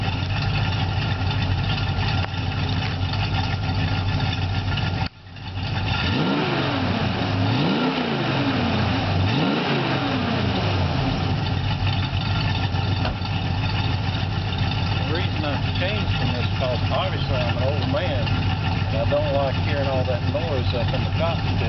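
A 1967 Ford Fairlane 500 V8 fitted with new mufflers idles with a deep burble, then revs up three times in quick rising and falling swells before settling back to idle; someone talks over it.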